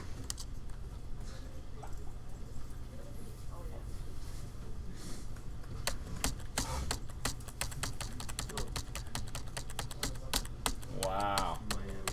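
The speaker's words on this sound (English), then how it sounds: "What happens if I press the right keyboard key?" Computer keyboard keys click in irregular bursts while coding a C++ game with SFML, close and fairly quiet taps, with a voice talking alongside.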